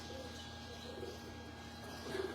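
A pigeon in a breeder's loft coos softly, low burbling calls rising slightly near the end over a steady hum and quiet background noise.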